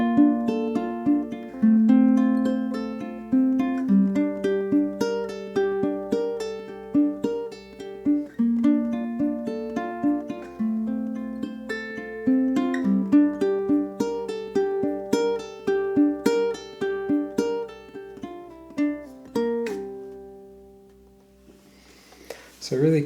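A ukulele plays an etude theme built on hammer-ons and pull-offs. Plucked notes ring in a steady, flowing line with a short held pause near the end. No one speaks over it.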